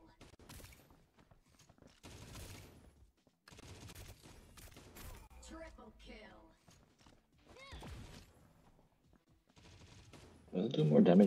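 Automatic weapon fire in a shooter video game comes in bursts of rapid shots separated by gaps, with a louder burst at the end, while someone talks over the gameplay.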